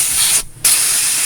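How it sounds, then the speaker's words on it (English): A nearly empty can of freeze spray hisses loudly in two close bursts split by a short pause, sprayed near the circuitry of an EICO 147A. "it's more of a freeze spray than a contact cleaner"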